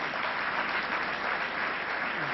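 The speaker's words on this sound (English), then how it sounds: "Please give strong round of applause to T. N. Sheshan." An audience at a national awards ceremony gives sustained, dense applause that stays even and full the whole time, sounding slightly muffled and band-limited.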